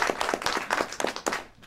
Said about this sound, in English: you can clap them